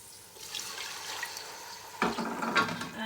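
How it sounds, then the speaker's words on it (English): A cup of water is poured into a hot cooking pan while aloo pilau is being made, giving a soft start and then a louder splashing rush, with no voices. "now in goes 1 cup of water. We're going to put that into the pan"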